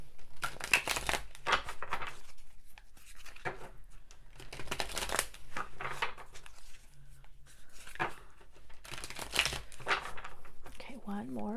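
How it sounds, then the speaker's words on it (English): Tarot cards are shuffled up close in repeated papery bursts of riffling and rustling, separated by short pauses. "Okay, one more shuffle."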